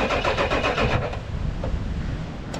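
A camper van called Jeff has its engine started, a steady mid-range rumble running loud and continuous from the very start with no pause.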